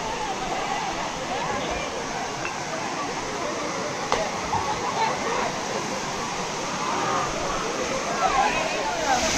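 Tada waterfall crashing down steadily, a dense continuous roar of falling water heard close by, with faint crowd chatter mixed underneath.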